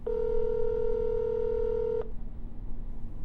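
A single steady telephone dial tone sounds alone for about two seconds, then cuts off abruptly, leaving quiet background.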